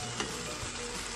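Kare-kare stew cooks in a pot in a home kitchen, giving a steady close hiss of bubbling and sizzling with a faint stir, and no one speaking.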